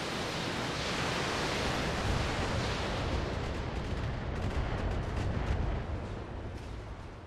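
BattleMech weapons fire in the BattleTech video game, destroying a structure, as a dense, loud roar of blast noise that holds steady for several seconds before slowly fading, with no speech.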